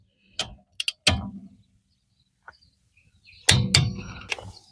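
A cordless Parkside impact wrench tightening a bolt gives short bursts of rapid ratcheting hammering, two quick ones and then a longer run, followed after a pause by a loud sustained burst, all close and with no talk.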